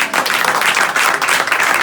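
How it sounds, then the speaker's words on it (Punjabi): Loud applause from an audience at a celebration in Ludhiana greeting guests, a dense, continuous burst of many hands clapping with no speech over it. "ਇਹਨਾਂ ਨੇ ਵੀ ਜ਼ੋਰਦਾਰ ਤਾੜੀਆਂ ਜੀ।"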